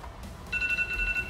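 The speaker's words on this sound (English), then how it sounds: "Stupid phone rings is nonstop." A phone rings with a steady repeating electronic ringtone during a car brake service in a workshop, starting partway in and continuing over a low background rumble.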